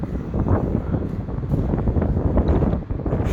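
Strong, gusty wind on the Blackpool seafront in freezing, rainy weather, a loud, continuous low roar buffeting the microphone throughout, with no voices.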